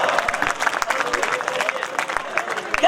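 Audience clapping at a Hindi kavi sammelan poetry recital for a birthday event, with distinct, fairly rhythmic claps close by and crowd voices chattering beneath.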